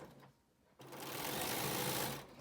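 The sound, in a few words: sewing machine stitching a fabric mask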